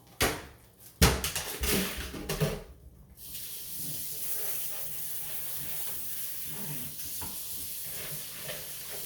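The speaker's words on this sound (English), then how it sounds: "let me put them in my colander and rinse them off" Carrots and peas are rinsed in a colander. A few clattering knocks come first, then a steady stream of running water splashes continuously at moderate volume.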